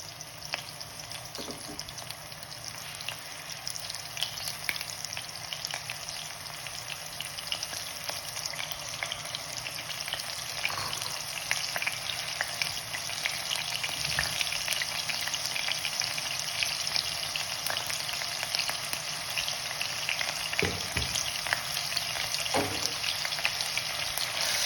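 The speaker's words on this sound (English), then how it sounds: "Fry it up nicely." Onion paste fries in hot oil for an egg curry, a constant soft sizzle and crackle throughout with occasional faint stirring clinks, no voices.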